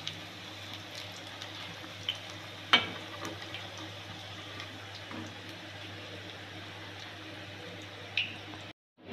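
Onion pakoras deep-frying in hot oil, a low, steady bubbling sizzle with scattered pops and drips, including a sharper crackle near the start, fairly quiet and continuous before cutting off at the end.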